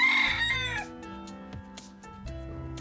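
A gamecock crows loudly and close, then hens and roosters cluck and call in short bursts, with a mix of farmyard fowl sounds and no talk.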